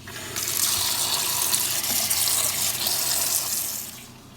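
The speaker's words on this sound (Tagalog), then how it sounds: "lagyan natin ng malamig na tubig para hindi siya magdikit-dikit" Cold tap water pours steadily over cooked macaroni in a sink to keep the pasta from sticking, a loud, continuous rushing splash lasting several seconds before tapering off, with no talking.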